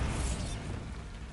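The Bombarda blasting spell in Hogwarts Legacy lands as a loud, dense explosive rumble. It fills the whole short moment and fades slightly toward the end.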